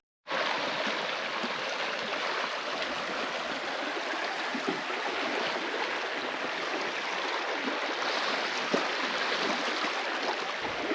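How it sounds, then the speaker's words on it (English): Water rushing out of an underwater cave on Lee Stocking Island, a loud, steady, close roar of flowing water that starts abruptly and continues without a break. "Given how much water is rushing out, it must be a big pool back there."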